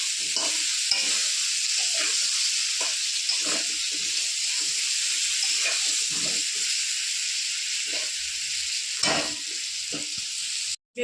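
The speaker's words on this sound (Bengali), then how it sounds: "বেগুনগুলো একটু ভেজে নেবো হালকা করে।" Eggplant pieces seasoned with turmeric and salt fry lightly in hot oil in a wok, a loud, continuous close-up sizzle broken by occasional stirring scrapes, with no talking.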